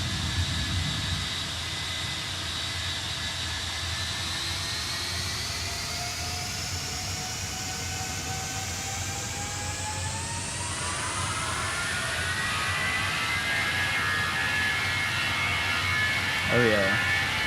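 FlightFactor Boeing 757 jet engines spooling up in a flight simulator with a Mango Studios soundpack, heard from outside while parked: a steady broadband roar with a whine that rises gradually and swells louder toward the end.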